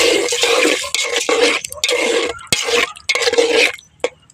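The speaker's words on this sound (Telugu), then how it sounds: "లైట్గా వాటర్ పోస్తాను అన్నమాట" Water poured into a curry while it cooks: splashing, bubbling pours in several bursts with brief pauses and a final clink, loud and close, with no talking.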